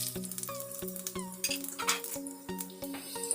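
Fennel and cumin seeds spluttering in hot oil in a kadai, a busy run of sharp crackles, pops and light clinks close by, with no talking over it.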